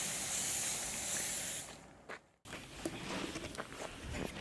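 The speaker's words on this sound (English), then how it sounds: "Adaś is putting a second one" Clear coat sprayed onto a BMW E30 body: a steady, bright spray hiss that cuts out abruptly, followed by quieter shuffling and faint handling noises nearby.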